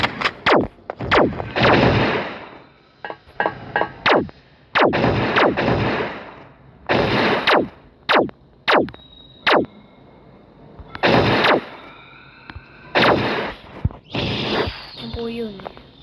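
Video game gunfire in a hard-mode match, with repeated loud shots and bursts crackling at close range in an irregular rhythm, spread across the whole stretch with brief pauses between volleys.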